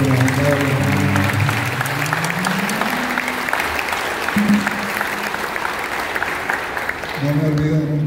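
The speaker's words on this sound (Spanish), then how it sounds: "Benito, quiero pedir un fuerte aplauso para todos los padres, maestro Cristian, maestro de banda, que se" Audience applause at a school band concert in a music school, a loud, steady wash of clapping from a seated crowd that runs throughout, with a voice talking over it at the start and again near the end.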